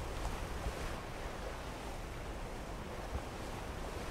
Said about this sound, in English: Yeah, I do believe the water is being drained.